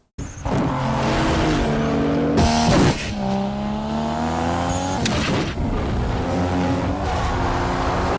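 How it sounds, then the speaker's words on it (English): Car engine revving hard toward redline during a street racing scene from 2 Fast 2 Furious, loud rising harmonic whine climbing in pitch, dropping briefly at gear changes and climbing again, with a squeal-like burst near the middle and no talking. "Brian is redlining like a Honda driver."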